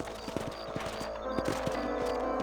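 Horse hooves clop at a steady walking rhythm in the Western game Red Dead Redemption, close and distinct over a low ambient hum and faint tonal background sound.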